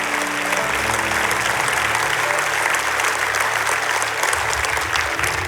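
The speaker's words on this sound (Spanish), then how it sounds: "Ahora dele un fuerte aplauso al Señor Jesucristo." A church congregation gives a loud, sustained round of applause during a Spanish-language worship service, dense clapping filling the room with a low musical drone underneath.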